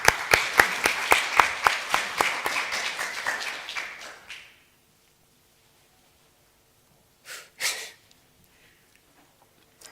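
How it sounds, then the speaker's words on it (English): Audience at the Hamburg Pride human rights conference claps for Patrick Ott: a burst of fairly sparse, crisp handclaps that thins out and stops after about four seconds, followed by near silence and a couple of faint rustles. "Ladies and gentlemen, an applause for we can hear each other."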